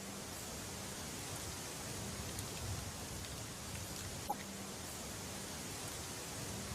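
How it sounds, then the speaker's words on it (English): Ambience of a eucalyptus monoculture reforestation forest: a faint, even wash of broadband hiss like light rain or wind through leaves, with one brief soft click and no clear birdsong or voices. "This is the sound of a forest project that is a reforestation project"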